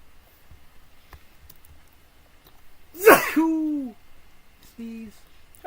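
A single sharp sneeze from the video game Crusader Kings II, loud and close, followed by short hooting tonal calls that ring out in the otherwise quiet game audio.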